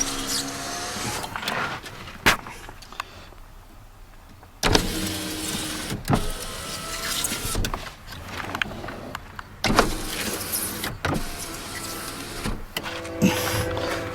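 Power windows on a 2003 Chrysler PT Cruiser Touring whine steadily as they move, several runs separated by clunks as each window stops, recorded close inside the car.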